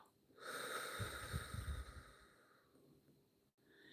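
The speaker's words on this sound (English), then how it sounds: "let's pause, let's take a deep breath and out." One slow, deep breath, a long audible inhale followed by a softer sighing exhale, close and quiet, alone with no talking.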